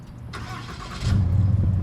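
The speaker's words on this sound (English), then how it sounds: "this Cummins diesel comes to life and ready to go" A 2021 Ram 3500 Big Horn dually with the 6.7-liter Cummins turbo diesel cranks briefly, then catches and settles into a loud, deep, rumbling idle nearby.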